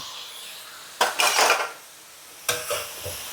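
A utensil scraping and clattering against a pan as seasonings are stirred into a Thai stir-fry of greens and sun-dried pork, heard in two loud, close bursts separated by a quiet pause, with no talking.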